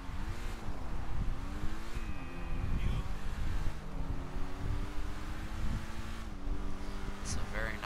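Engine of an Infernus Classic sports car in GTA 5, droning steadily with shifting pitch while driving, with wind noise and someone talking over it.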